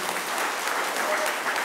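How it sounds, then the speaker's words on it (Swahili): Congregation applauding a priest at a Catholic church opening mass in Oloitoktok, Kenya: a dense, even patter of many clapping hands, moderately loud and steady, without distinct voices. "Naomba tumpigie makofi padri."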